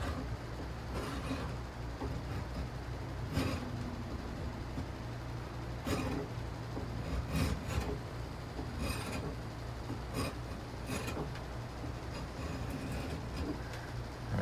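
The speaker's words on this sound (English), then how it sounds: "using the chisel to get it into the shape that I want it." A chisel scrapes and shaves wood to shape a draw knife in a workshop, giving steady rasping strokes with sharper scraping bursts repeating through the clip, close and moderately loud, with no talking.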